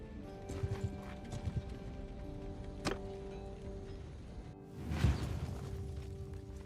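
Hooves clip-clop steadily in the video game Total War: Warhammer (Old Realms), with a horse whinny and a whoosh rising near the end; no talking.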